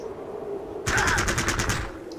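Gunfire in the tactical video game Fallout Tactics: a short automatic burst of about eight rapid shots breaks in after a quiet stretch, loud and close.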